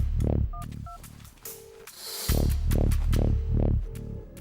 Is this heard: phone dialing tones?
yes